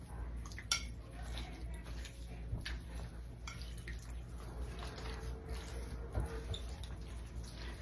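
A spoon gently stirring green beans, bacon and potatoes in a dish: soft, irregular scraping and light clinks with a few sharper taps, close and quiet over a low background hum.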